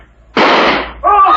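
A loud, sharp gunshot effect from a 1952 radio drama bursts out briefly, followed by a short ringing, tonal tail.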